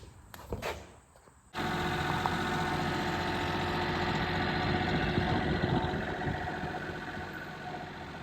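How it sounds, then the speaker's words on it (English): A farm tractor fitted with forks idles with a steady, even mechanical drone after a brief rustle at the start, continuing close and unchanging. "I'm gonna jump on the tractor here and go see if we can fix that pig pen."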